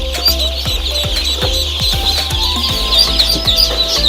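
Local duck chicks at a hatchery in Assam, a dense crowd of ducklings peeping continuously with high, overlapping chirps and scattered low knocks and thumps, close and fairly loud, no talking.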